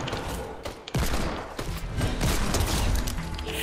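Rapid gunfire from the Fortnite video game: dense, loud bursts of overlapping shots and impacts crackle continuously through the whole stretch, with no talk over them.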